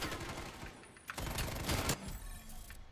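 Pistol gunfire in Call of Duty: Cold War, a loud burst of rapid shots in the middle of the clip with mechanical clicks and game effects before and after, no talking.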